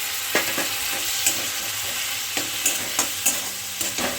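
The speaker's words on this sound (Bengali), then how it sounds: "দিয়ে এবার একটুখানি নাড়তে হবে জাস্ট নেড়ে নিলাম" A paste of poppy seed, coconut and mustard with poppy-soaking water is stirred in a pan for a raw prawn dish: a constant sizzle broken by a string of sharp spoon taps and scrapes against the pan.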